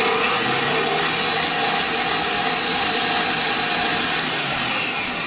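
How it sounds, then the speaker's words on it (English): A kitchen stand mixer whipping heavy cream, a steady loud whirring motor hum that stays constant throughout with no pauses or voices. "I started whipping in the kitchen mixer"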